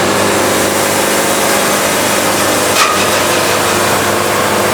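A sawmill blade cuts through a log with a continuous loud, rough whine, and a short sharp metallic ping breaks through when it strikes embedded metal.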